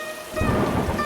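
Heavy rain pours steadily during a night thunderstorm, with a dense roar of drops swelling after a brief quieter start and a low rumble of thunder beneath, loud and continuous with no voices.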